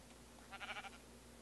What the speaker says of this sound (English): Boy, there's a lot of sheep here.